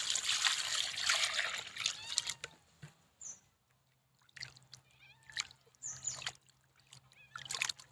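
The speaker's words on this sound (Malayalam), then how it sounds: "ക്ലീൻ ചെയ്ത് നമുക്ക് ഇതൊക്കെ ഒന്ന് കഴുകിയെടുക്കാം" Cut fish pieces being washed in water, with splashing, trickling and dripping in bursts at the start and again later, close and moderately loud, separated by quieter pauses.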